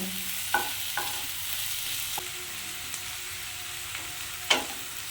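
Chopped onions frying in oil for a kachur lati and prawn dish, with a soft continuous sizzle and a few sharp spoon knocks against the pan, the loudest two near the start and end.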